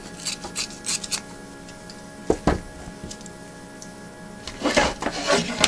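Scissors cut through fabric for a crazy quilt block with a few quiet snips, a couple of sharp clicks mid-way and a rougher burst of cutting near the end, all close and fairly soft with no talking.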